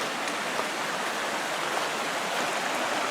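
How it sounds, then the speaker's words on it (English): A small babbling brook beside the Little Carp River Trail runs in a steady, close rushing burble of water, alone and unbroken. "Nice little babbling brook."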